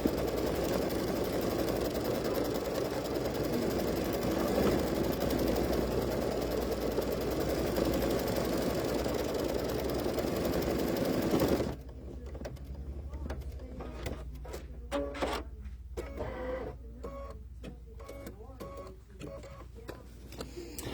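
An embroidery machine stitches fabric in place on an in-the-hoop pumpkin potholder, a steady mechanical whirring hum for most of the stretch before it stops, followed by quieter handling clicks and faint voices.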